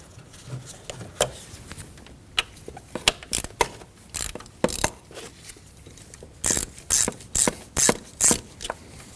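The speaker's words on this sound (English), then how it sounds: "Moving inward on the intake, we can loosen up the second hose clamp." Intake hose clamp loosened on a 2015-2024 Ford Edge engine: sharp clicks, then repeated bursts of close ratcheting, each a second or less, with short pauses between.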